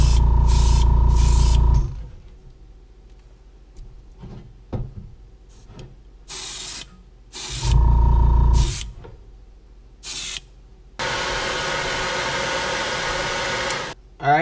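Airbrush spraying green paint onto a crawfish-pattern crankbait lure, a steady hissing burst lasting a few seconds near the end, preceded by louder bursts of a hair dryer blowing the coats dry and small handling clicks.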